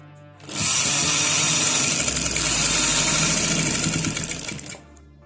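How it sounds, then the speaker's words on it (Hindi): A sewing machine runs steadily, stitching along the folded hem of a plain shalwar; the close motor whir starts after a brief pause, holds for about four seconds and winds down, with no talking. "अब यहाँ एंड से आप सिलाई लगाते जाएंगे।"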